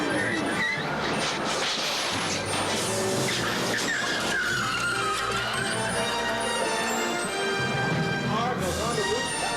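A race vehicle spinning out and crashing during the 2000 NASCAR Craftsman Truck Series Chevy Silverado 200, with tires squealing and skidding, engines roaring and a brief impact, all under excited commentary.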